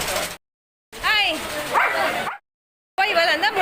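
A dog yelps and barks at close range in several bursts, with whining, high-pitched yips broken by short silences.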